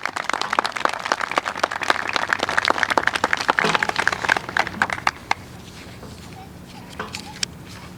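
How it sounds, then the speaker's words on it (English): A room full of people claps steadily at a high school military ceremony honoring students joining the armed forces, the applause dense for about five seconds before tapering into a few scattered claps and quiet shuffling. "Please give a round of applause to the Dorado family."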